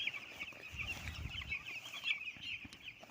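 Chickens on a poultry farm cluck softly and steadily in a quiet pen, with a faint constant background hiss and no talking.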